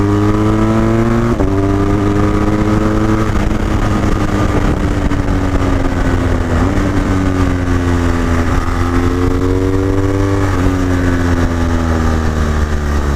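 A BMW R1200GS Adventure motorcycle accelerates hard through several gear changes, its engine note climbing in steady rising sweeps under loud wind rush for the whole stretch, with no talking.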